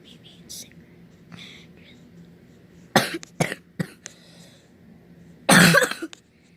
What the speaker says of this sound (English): I just have a little cough though